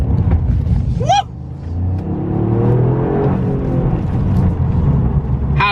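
A 257 bhp Toyota GR Yaris with active four-wheel drive, driven hard from inside the cabin, its engine rumbling and revving as it accelerates, with a brief whine of tyres or a turbo chirp breaking through at moments.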